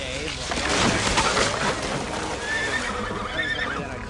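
A horse neighs loudly in a 1994 movie scene as it falls into a lake, its strained whinnying running almost continuously over a dense, rushing soundtrack.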